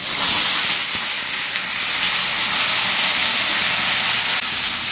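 Raw mango poured into a hot pan with mustard seeds, green chilli and leaves for a Bengali chutney, a loud, dense, continuous sizzling hiss held steady throughout, close and alone.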